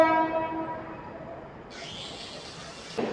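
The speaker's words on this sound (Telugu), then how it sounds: "ప్లాట్ఫామ్ నెంబర్ 6లో చూసుకోవచ్చు ఒక ట్రైన్ వస్తుంది" Hundry Express, running from Kurnool to Secunderabad, pulls in at platform 6 with a sustained horn at the start, then low rolling rumble and a faint hiss, ending in a brief sharp clank.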